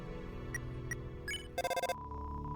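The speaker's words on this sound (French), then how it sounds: "Vous essayez d'appeler avec votre téléphone." A phone call ringing in Deltarune: short synthetic tones sound, then a dense burst of repeated electronic pulses, followed by a sustained tone over a low game background.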